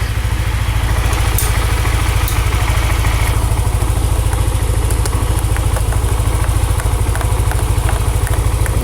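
Motorcycle engine idling with Repsol mixed oil after a Xado Revitalizant treatment, a steady, even low-pitched putter with light mechanical clatter, close and continuous throughout with no talk.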